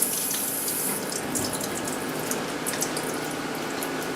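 Pork meat being rinsed under a running kitchen tap, a steady close hiss of flowing water with soft splashes, continuous and without talk.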